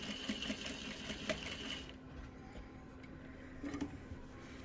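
A sewing machine stitches down a pleat on a small doll skirt, a faint, steady whirring hum close by that dips briefly midway, with no talk.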